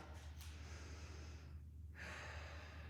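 Heavy breathing during a vinyasa yoga flow: a close, audible exhale and inhale through the nose, with a brief quiet pause between breaths and a sharper intake toward the end.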